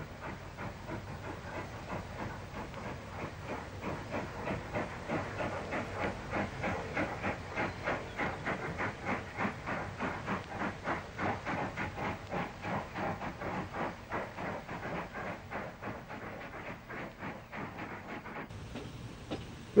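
Two steam locomotives, an 0-6-0 and a 4-4-0 on the GNR broad gauge line, haul a train of failed railcars, their steady rhythmic chuffing and hiss carrying at moderate distance without any voices.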